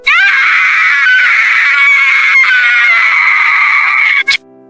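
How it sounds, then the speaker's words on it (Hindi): A loud, sustained scream from the Chhalava creature, a horror-story sound effect, holds steady at high pitch for about four seconds and then cuts off abruptly, with nothing else heard. "छलावा ने चीख मारी"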